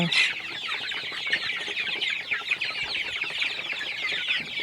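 A flock of native chickens and chicks clucks and cheeps continuously at close range on a farm, a busy overlapping chorus of small calls with no pauses.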